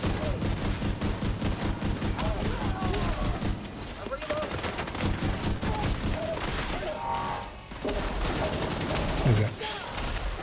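Rapid video-game gunfire aimed at a hostile sniper turret, dense continuous bursts of shots filling the whole stretch, loud and close with a few heavier booms mixed in.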